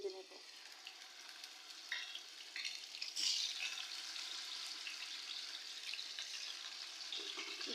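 Marinated rui fish fries crisp in oil, a continuous moderate sizzle with scattered pops and crackles that swell briefly midway and then settle into a steady hiss.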